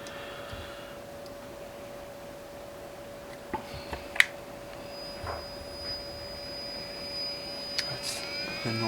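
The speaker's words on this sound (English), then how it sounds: "That's the noise of a heat gun." Quiet, steady whir of a heat gun blowing while a heat-shrink sleeve is shrunk over a drone antenna, with a constant hum, a few faint clicks and handling taps, no voices.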